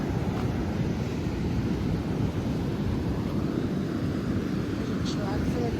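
Pacific Ocean surf and wind on a beach, a steady loud roar of breaking waves with wind buffeting the microphone throughout, no distinct individual wave crashes standing out.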